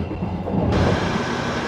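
From inside the Progo passenger train on the Jogja–Jakarta route, a steady broadband rumble of the moving carriage fills the space and brightens abruptly partway through.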